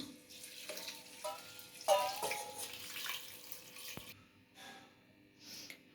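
Water is poured into a pressure cooker holding soaked rice and lentils, a faint splashing trickle in a quiet kitchen that comes in short bursts and then tapers off.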